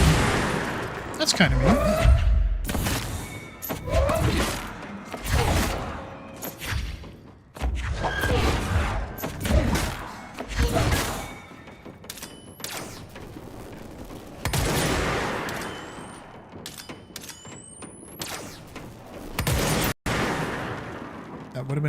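Rapid gunfire and heavy thuds from the video game Control erupt in repeated bursts, with booming impacts and whooshes, while someone talks over the action.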